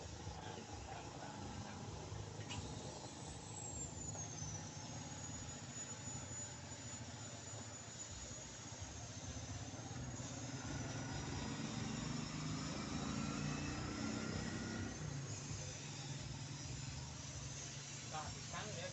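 Refrigerant gas hissing out of a clogged refrigerator's lines during flushing, a steady, even rush of noise that holds throughout with faint tonal whines over it.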